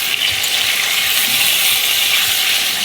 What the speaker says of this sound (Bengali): এটি লাল লাল করে ভেজে তুলে নেব